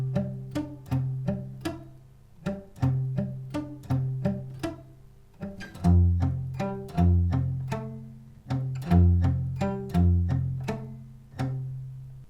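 Acoustic guitar plays the verse riff of a song, a repeating plucked picking pattern over chords, played twice through, clear and close with no voices.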